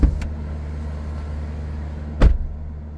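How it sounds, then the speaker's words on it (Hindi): A Mahindra Scorpio N engine held at raised RPM during a manual DPF regeneration, parked with the bonnet open, giving a steady low drone with sharp clicks or knocks near the start and just after two seconds. "ये इंक्रीज हो गया आरपीएम। ये जब तक रहेगा जब तक तैयार नहीं होगी गाड़ी"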